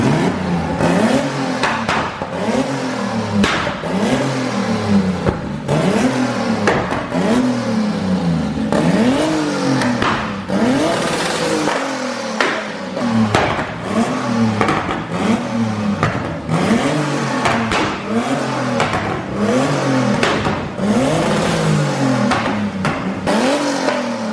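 A Nissan GT-R engine revs loudly and repeatedly, rising and falling in pitch with a roaring, throaty tone, close up and continuous.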